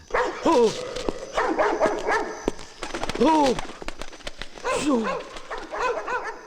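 Several dogs bark and yelp in a Malayalam film scene, sharp repeated barks coming in clusters, some with a whimpering pitch, while people speak in between and over them.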